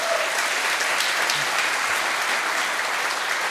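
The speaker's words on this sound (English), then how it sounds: "please a round of applause to them" Applause from a startup competition audience for a pitching founder's team, a dense, even wash of clapping throughout the short stretch with no talk.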